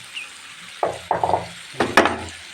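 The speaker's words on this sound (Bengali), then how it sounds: "মশলা কষানো হয়ে গেছে এখন আমি সবজিটা ঢেলে দিব" Vegetable stalks are tipped into spice paste frying in a pan, with a few sharp hissing bursts and clattering scrapes up close, each quickly fading into a low sizzle.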